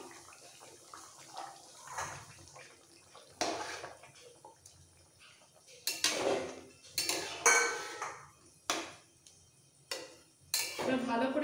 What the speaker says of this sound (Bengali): অল্প সেদ্ধ হয়ে গেলে দিয়ে দিতে হবে ভেজে রাখা মাছ। আর দিয়ে দেবো ফুলকপি।